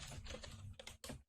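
Quick, close clicks of typing on a computer keyboard, a dense run of keystrokes with a brief pause near the end, moderately loud and alone.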